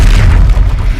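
A Confringo explosive spell blasts in Hogwarts Legacy, a short, heavy, booming burst that is loud and close and rumbles through the whole moment.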